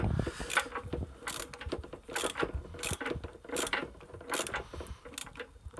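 A ratchet cranks down a sacrificial anode rod on a water heater, giving repeated bursts of close, loud clicking in an uneven rhythm with short pauses between strokes.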